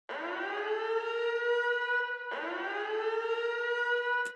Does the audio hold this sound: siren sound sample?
yes